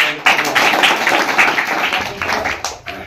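Audience clapping at a village public gathering with dignitaries present, a steady burst of applause about three seconds long that tapers off at the end.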